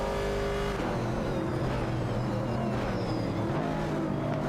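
Virtual race cars on a video game track, a Ford Mustang Boss overtaking a Ford Falcon, with a sustained engine drone and rising, shifting whine, loud and constant throughout.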